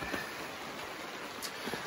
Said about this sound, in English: As you can hear, it's raining.